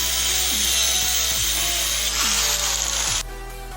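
Power saw cutting through the iron spindle of a Honda Street Cub motorcycle, with a loud continuous grinding whine and a steady motor hum, the blade easing off near the end.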